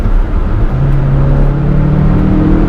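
An MG HS PHEV plug-in hybrid SUV under hard acceleration, heard from inside as a loud, steady engine drone with a slowly rising tone over road rumble.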